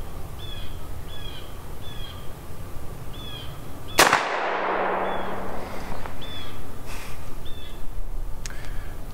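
A single sharp, loud shot from a Ruger .44 Special Flattop Bisley revolver cracks outdoors and rings off briefly, with birds calling in the background before and after.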